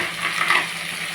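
Vegetables and tomato fry in a pan, a brief, steady close sizzle with a soft stirring swell in the middle.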